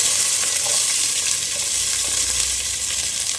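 Small onions (shallots) fry in hot oil with a loud, steady, hissing sizzle that stays constant throughout, close up, with no voices.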